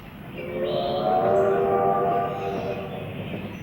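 Model trains rumble steadily along their track in a museum layout, a rolling mechanical hum that swells in the middle and eases off, with no voices.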